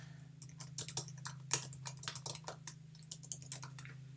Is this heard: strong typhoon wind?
no